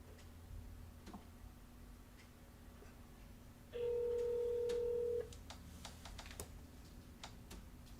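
Faint telephone line with scattered clicks and ticks, then a single steady ringback or dial tone lasting about one and a half seconds midway, followed by more quiet clicking.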